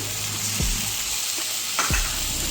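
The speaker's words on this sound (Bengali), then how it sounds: "এবার আমি এখানে টমেটো বাটা দিয়ে দেব। টমেটো বাটা অ্যাড করলাম।" Tomato paste sizzles in a pan of browned frying onions, a steady close hiss of frying with a couple of soft stirring knocks, no voices.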